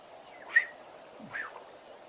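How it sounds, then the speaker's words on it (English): A black-headed oriole's liquid, fluty call rings out twice, fairly faint and distant, with a quiet background hiss and no voices. "including a black-headed oriole, which is making that liquid call."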